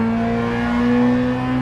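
A rally car engine in the Richard Burns Rally video game holds high, steady revs, giving a loud continuous droning hum with no pauses and no talk over it.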